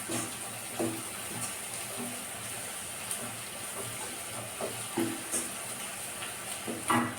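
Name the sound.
ginger, garlic and onion sautéing in a pan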